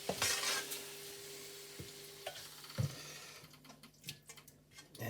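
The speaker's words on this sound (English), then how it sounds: "sizzling back up nicely" Char siu lo mein sizzles in a pan on a plug-in hob, a crackling fry with stirring scrapes and a few clicks and knocks, fading quieter toward the end.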